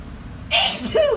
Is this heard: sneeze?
yes